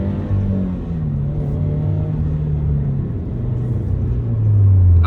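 A Toyota GR86 engine pulls hard through the revs, a steady loud rumble with a rising tone that drops at a gear change near the end, heard from inside the car.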